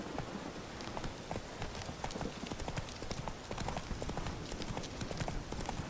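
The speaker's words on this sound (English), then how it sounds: "Run, Roach." Hooves of a galloping horse in The Witcher 3, a continuous fast clip-clop rhythm, steady and fairly quiet, with no talking.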